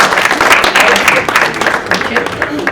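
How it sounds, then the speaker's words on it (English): Children at a school district gathering cheer and applaud, a loud, dense burst of clapping and shouting in a large room. "I think we all heard the kids cheering for you"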